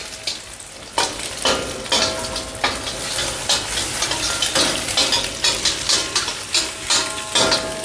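Egg frying in a hot pan while being stirred, with a steady loud sizzle broken by rapid, repeated spatula scrapes and taps against the pan.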